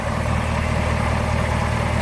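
A 2018 Camaro ZL1's supercharged 6.2-liter LT4 V8 with a 1.7 Eaton supercharger idles in a steady, loud, deep rumble that holds evenly without revving.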